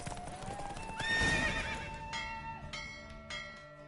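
A horse in a race in the video game The Witcher 3, with clip-clop hoofbeats under a loud whinnying neigh and a ringing bell-like tone, fairly close and alone without talk.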